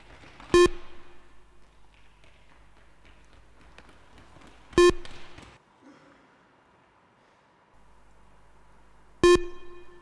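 Yo-Yo Intermittent Recovery Test Level 1 audio: three loud, sharp electronic beeps spaced several seconds apart, with a faint low background between them and no talking.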